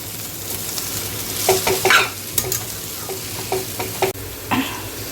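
Noodle ingredients fry in a small amount of oil in a pan, a constant low sizzle broken by several sharp scraping stirs and clinks of a utensil against the pan.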